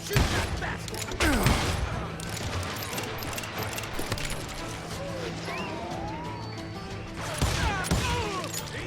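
Gunfire in the Western shooter game Call of Juarez: Gunslinger, scattered shots and crashes over a busy game soundscape with shouting voices, moderately loud.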